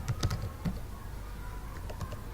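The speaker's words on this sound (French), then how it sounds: "le clavier" Computer keyboard keys tapped in short quick bursts while a password is entered during Windows Server setup, faint and close, with pauses between clusters of keystrokes.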